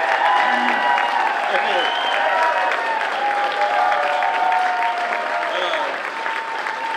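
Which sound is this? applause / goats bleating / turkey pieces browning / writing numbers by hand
applause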